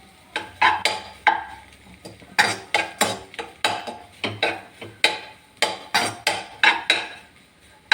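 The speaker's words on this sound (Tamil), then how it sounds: "நமக்கு வந்து எடுத்து வச்ச மல்லித்தழை அண்டு கருவேப்பிலை நல்லா மிக்ஸ் பண்ணி விடலாம்." A spoon scrapes and clanks in a pan while egg and green peas podithuval is stirred with coriander and curry leaves, giving rhythmic, close metallic strokes about twice a second with no talking.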